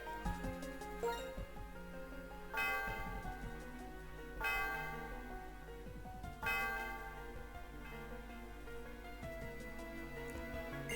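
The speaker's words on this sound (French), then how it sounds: "Le son de glas résonne aux alentours. Quel joli son." A bell tolls in the Pokémon Black video game, three slow, evenly spaced strikes that each ring out and fade over a soft melodic backdrop.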